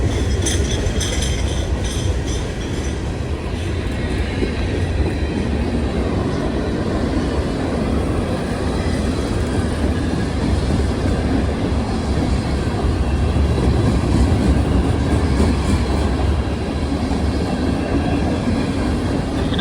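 A CSX Seaboard heritage locomotive leading a work train on the L&N line passes close by, producing a loud, steady rail rumble and wheel roar that holds for the whole span, with no talking.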